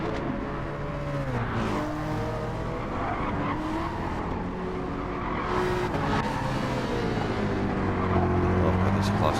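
Race cars roar through Dragon Trail Gardens in Gran Turismo 7, several engines droning and shifting pitch together with tire squeal, close and loud throughout while a commentator talks over them.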